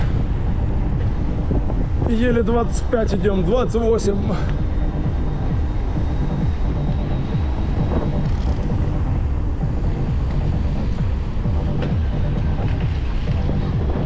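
A strong headwind roars steadily into the microphone throughout a December cycling ride between Adler and Sirius in Sochi, with someone speaking briefly early on.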